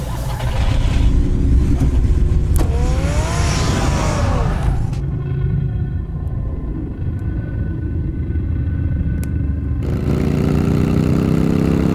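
A car engine in Batman: The Telltale Series rumbles steadily and loud throughout, with a rising rev sweep early on and a brief quieter stretch before the idle swells again.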